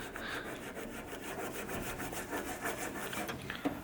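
Rubbing over a chemically stripped wooden surface gives a steady, close scratchy friction in quick back-and-forth strokes that continues without a break.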